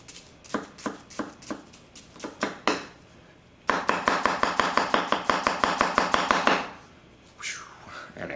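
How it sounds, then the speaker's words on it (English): Konosuke Tsuchime gyuto knife cutting vegetables on a board: a few spaced chops, then a fast even run of about twenty crisp strokes, close and alone, followed by a brief slide. "Goes right through vegetables like butter."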